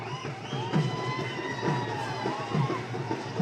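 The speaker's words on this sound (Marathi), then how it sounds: "विजयी जल्लोष सुरू आहे" A crowd of party workers cheers and shouts at an election victory celebration in Maval, with gulal and bhandara being thrown. Voices swell in rhythmic bursts of loud, overlapping shouting close by.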